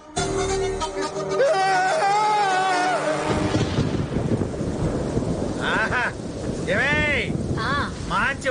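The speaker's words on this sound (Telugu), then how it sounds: "మంచి వర్షం పడుతుంది" A thunderstorm with heavy rain in a film scene makes a loud wash of rain and rumble, while a synthetic tonal sweep at the start and whooshing swept effects later play over the storm.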